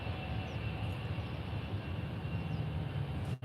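A Volotea passenger airplane at Faro Airport in southern Portugal gives a steady, broad engine roar that holds at an even level throughout, with no talking.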